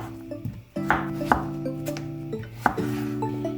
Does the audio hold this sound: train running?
no